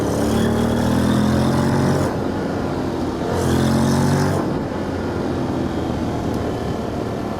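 A Honda X-ADV motorcycle engine on a test ride drones steadily with clear harmonic tones, swelling twice as the revs rise and ease off, with wind rush behind it and no talking.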